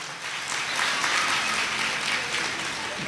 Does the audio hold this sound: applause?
yes